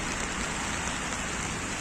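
Heavy rain pouring down in Rome in December, a dense steady hiss of drops drumming on surfaces close to the microphone, constant and loud throughout with no voices.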